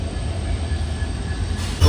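The Vasco da Gama Express, hauled by a new yellow diesel locomotive on its run to Vasco, gives a steady loud rumble of rolling wagons and wheels with no voices.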